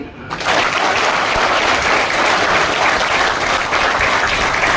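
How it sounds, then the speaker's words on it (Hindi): An audience at an AWPL SOS training session in Nainital breaks into dense, loud applause that starts abruptly and holds steady as a continuous wash of many hands clapping together. "बजाओ ताली"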